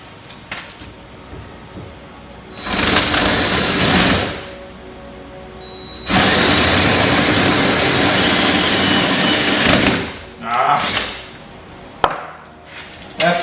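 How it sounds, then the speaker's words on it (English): A drill bores a dead-bolt hole through a steel door in two loud sustained bursts of grinding whine, a short one and then a longer run of about four seconds, with brief quieter gaps and bumps between them. "I'm just gonna go ahead and drill a hole"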